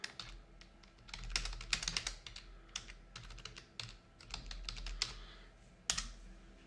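Rapid, irregular clicking of keys on a computer keyboard, close and fairly quiet, in bursts with short pauses while someone works in video editing software.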